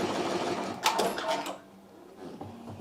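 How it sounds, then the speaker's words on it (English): A Ricoma MT1501 embroidery machine stitches into the side of a Timberland boot, giving a quick mechanical chatter of needle strokes that swells briefly, then drops to a quieter hum before picking up again. "MT1501 is embroidering on the side of a Timberland boot"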